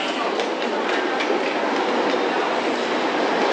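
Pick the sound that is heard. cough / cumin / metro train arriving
metro train arriving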